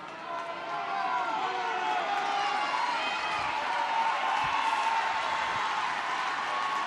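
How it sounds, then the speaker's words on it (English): Large stadium crowd at a women's Six Nations rugby match between Ireland and France, a sustained loud roar of cheering and noise rising and holding steady throughout. "And again, the crowd responds."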